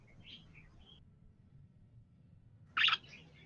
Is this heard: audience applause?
no